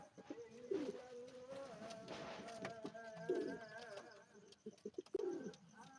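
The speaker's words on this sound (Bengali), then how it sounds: "পায়রাটা প্রচুর অ্যাগ্রেসিভ পায়রা হাতে আসছে না একদম" A pigeon of a green-chapka or jiriya breed coos in soft low bursts while being handled, with fluttering and rustling around it and a few brief chirps nearby.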